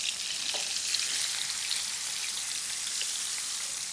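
Vegetables and coconut masala paste frying in a pan, a steady bright sizzle and crackle with occasional pops, close and continuous, without talk.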